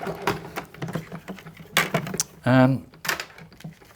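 A Sizzix Big Shot die-cutting machine is slid back into position amid close crafting handling noises, with a brief whirring mechanical buzz near the end among taps and clicks.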